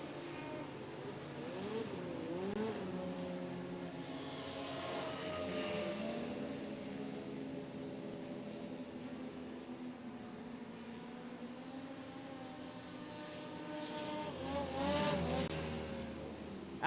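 Racing craft roar past on the last lap of a hovercraft race meeting at Allerton, a sustained engine drone with rising and falling pitch sweeps from passing machines, then swelling louder near the end.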